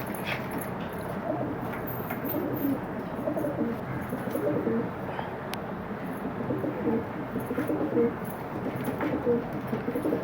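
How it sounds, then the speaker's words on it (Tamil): Farm pigeons coo steadily in a coop, soft overlapping calls under a constant background hum, with a few faint chirps. "நம்ம சேல்ஸ் பண்ண புறாக்கள் இப்போ வீடியோவும் போட்டிருக்கோம், பாருங்கள்."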